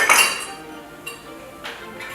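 A metal pastry blender clinks against a bowl while cold butter is added for strawberry scones, with a bright clatter at the start and two lighter taps later.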